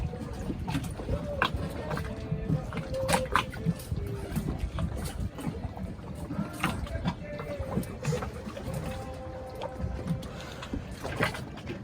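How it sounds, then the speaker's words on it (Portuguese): Boat motor on the Amazon river near Tefé, a steady droning engine with water and wind noise, heard under bursts of clattering and some talk nearby. "Acho que esse é o motor."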